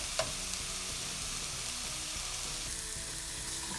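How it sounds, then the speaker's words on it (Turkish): Beef cubes for a Turkish-style meat sauté searing in a hot pot, a loud continuous sizzle and crackle throughout with a brief clatter near the start, no voices. "Kızgın bir tava veya tencere kullanacağız arkadaşlar ki etimiz güzelce mühürlensin."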